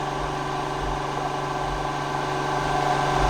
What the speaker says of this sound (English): It's a 30 horsepower compressor.